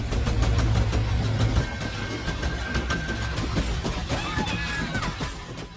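A tractor left running outdoors, its engine idling with a steady low rumble and faint whine, loud at first and then easing slightly as it carries on alone.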